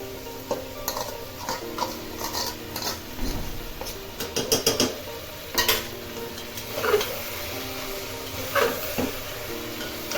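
Mixed vegetables and spice-coated soybean chunks being sautéed in a pan for veg soybean biryani, with a steady sizzle under repeated scraping and clinking stirs of a spatula against the metal.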